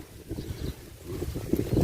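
Strong wind gusting outdoors on a farm plot among banana plants, a steady roaring rush that swells and buffets the microphone in waves, loudest toward the end, with no talking.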